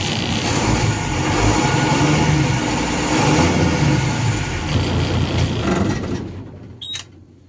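A truck's diesel engine runs loud and steady close by, its low rumble rising and falling as the revs climb and drop, then cutting out abruptly near the end with a brief clunk.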